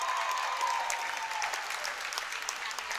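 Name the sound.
crowd of wrestling fans cheering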